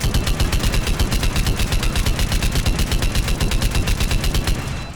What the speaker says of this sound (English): the Gladius fires like this